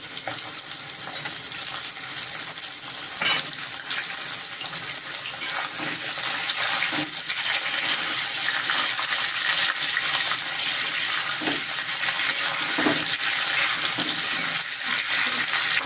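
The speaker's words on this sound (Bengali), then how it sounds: "এখন এগুলো হালকা হালকা আলুর সাথে ফ্রাই করে নেব" Pointed gourd and ridge gourd strips frying with potatoes in a pan, a steady broad sizzle running throughout with occasional stirring clicks and scrapes, no voices.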